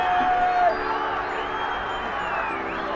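Crowd at a Nepal vs Kuwait cricket semi-final roaring and cheering after a boundary, a steady broad din of many voices with whoops and a shrill whistle-like tone near the start, sustained throughout.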